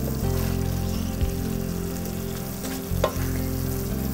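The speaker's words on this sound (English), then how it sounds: "Gently stir the brinjal into the sauce and let that simmer for about a minute until the sauce thickens slightly." Brinjal simmering in tamarind sauce as it is gently stirred, a continuous close bubbling and sizzling with a steady low hum beneath and a few faint scrapes of the spoon.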